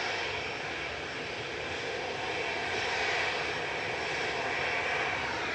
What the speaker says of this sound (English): EasyJet lined up in front of us.